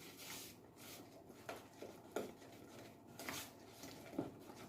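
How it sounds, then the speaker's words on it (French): A spoon stirs cake batter with rum in a bowl for mini ardéchois cakes, faint rhythmic scraping and soft clinks against the bowl repeating roughly every half second, with nobody talking. "il me reste simplement à bien mélanger le tout"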